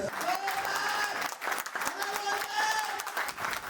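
Audience applause at a Jashn E Royal Star celebration event, a steady wash of clapping with cheering and voices mixed in throughout, fairly loud and continuous.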